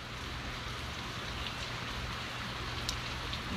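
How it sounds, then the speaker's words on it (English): Steady rain hissing down onto a hot, steaming road, an even wash of patter with no voices. "it's been raining for about 10 minutes and the road is still steaming"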